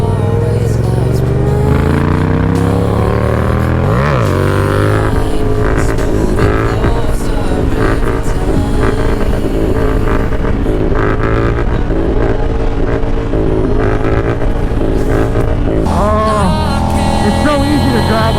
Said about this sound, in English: It's so easy to drive on this bike.